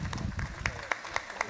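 Thinning applause from a conference audience after a talk at JuliaCon 2024, heard as a few scattered, fairly quiet claps spaced through the moment, with soft background murmur.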